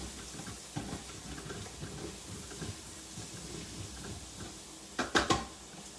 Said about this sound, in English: So we've got all our onions and our garlic in there. We're going to stir this up.